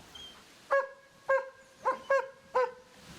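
A dog gives five short, yelping barks in an uneven rhythm, fairly close, with quiet between them.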